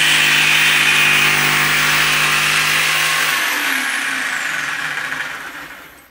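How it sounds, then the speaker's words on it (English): A DeWalt jigsaw fitted with a Bosch 20 TPI scroll-cut blade sawing through wood, a loud, steady buzzing whine held close up that slowly winds down and fades at the end. "DeWalt jigsaw, and it is the Bosch Blazed 20 TPI scroll cut. All right, so I'm going to start on the bottom here."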